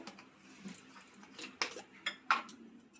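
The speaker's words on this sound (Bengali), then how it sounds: "এবার আমি এটাকে ফেটিয়ে নেব এক সাইড দিয়ে করে ফেটাবো" Uttapam batter being whisked in a bowl, soft irregular scraping and light clinks of a utensil against the bowl, close and quiet, with a few sharper taps near the end.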